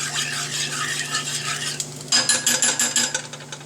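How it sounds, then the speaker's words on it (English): A spoon stirs a ham loaf sauce mixture in a pot, first a soft swishing, then a quick run of sharp metallic clinks and scrapes against the pan, close and distinct. "So we'll kind of stir this stuff around a little bit."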